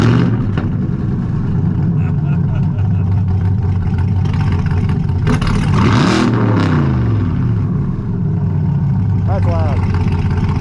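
A 2020 Chevrolet C8 Corvette engine runs loud and close with a steady mid-range drone that swells into a short rev, while people talk over it.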